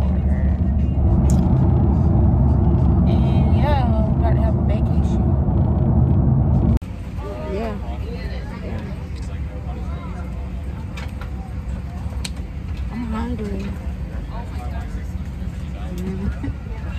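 A bus interior rumbles with a low, steady engine drone as passengers ride to pick up a rental car. The noise drops to a quieter hum partway through, and people talk over it.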